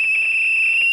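A shrill, steady whistle is blown into a telephone during a prank call, holding one loud, unbroken tone with no talk over it.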